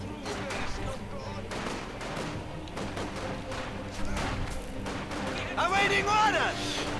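Rifle and machine-gun fire crackles through a Company of Heroes 1v1 match as German Grenadiers open up and come under fire, dense bursts over continuous commentary talk.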